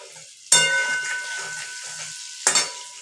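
Potatoes fry in hot oil with cumin, two loud bursts of close sizzling as pieces go in, each settling into a steady crackle between.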